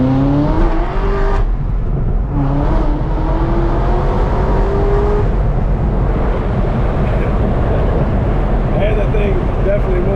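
Corvette engine under hard, violent acceleration heard from inside the car, a loud continuous drone with rising harmonic sweeps as it pulls through gears, with voices talking over it.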